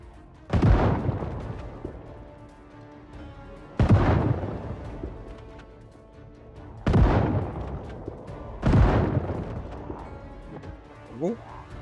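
Shotgun fire in the video game Project Zomboid: four heavy booming blasts spaced a few seconds apart, each with a long decaying tail, under a faint background.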